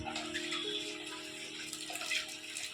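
Tap water runs steadily from a household faucet into bottles, a continuous mid-level gush with a faint hum running underneath, no voices heard.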